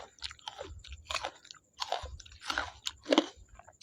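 Close, wet chewing and crunching of spicy chicken curry with rice during an eating challenge, with rhythmic bites and mastication sounds repeating throughout and no talk.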